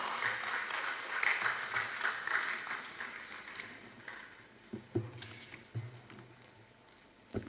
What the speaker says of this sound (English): with a round of applause, let's welcome our chairperson for today, Professor Stephen Jobson Mitchell